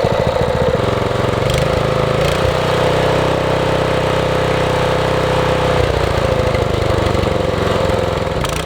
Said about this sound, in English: For the first few tests, I left the stock muffler on the engine.